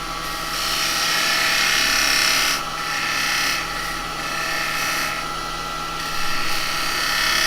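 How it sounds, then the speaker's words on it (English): A wooden bowl being turned on a lathe for a Halloween piece, a bowl gouge cutting with a loud, continuous whirring hiss that swells and dips as the cut moves, with no voices. "get that crisp edge with a bowl gouge in there"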